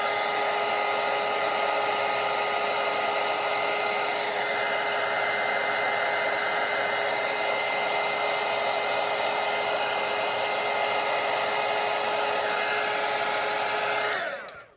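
A hair dryer blows steadily and loudly on wet watercolour paint for about fourteen seconds, a constant whirring roar with a high whine, then cuts off abruptly at the end.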